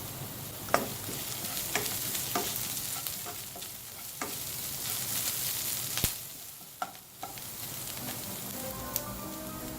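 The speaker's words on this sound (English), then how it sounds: "add the dried red chillies and the curry leaves and continue to saute" Onion, dried red chillies and curry leaves sauté in a frying pan for pumpkin with dried prawns, giving a steady close sizzle with irregular spatula scrapes and taps throughout.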